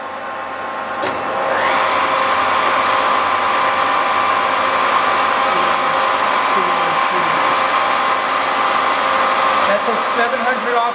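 The vertical head of a Cincinnati Cinova 80 universal milling machine spins up after a click and then runs at 700 RPM, a loud, steady motor whine and hum with a constant pitch close by.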